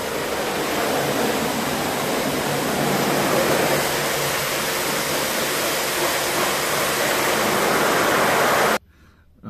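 A car wash sprays water onto the windshield of a Niva, a loud, continuous hissing rush of water drumming on glass that runs steadily, then cuts off abruptly near the end and briefly resumes.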